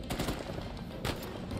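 China Lake grenade launcher firing in Uncharted 4, dense loud bursts of gunfire and explosive blasts crowding the short stretch, with a sharp heavy impact about halfway.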